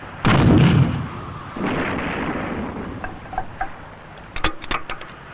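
A ceremonial artillery gun fires: a loud, close boom opens, a second heavy blast follows, and scattered sharp cracks and pops trail off into quieter echoes.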